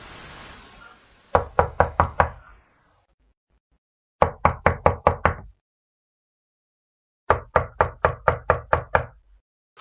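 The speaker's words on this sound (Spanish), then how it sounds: "Yo y Francis estábamos aterrados cuando alguien toca la puerta." Three bursts of sharp, close knocks hit a door, each a rapid run of about six raps separated by silence, after a brief hiss at the start.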